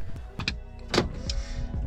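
Car being entered in a parking lot at Tule Springs Fossil Beds, with a door clunk, a power window whirring and several short knocks and thumps close by.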